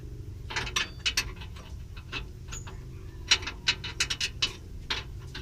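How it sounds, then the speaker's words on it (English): A spanner turns the adjusting nut on a Mitsubishi Pajero torsion bar. Close, crisp metallic ratcheting clicks come in irregular bursts over a low background hum. "doing this with the spanners works fine."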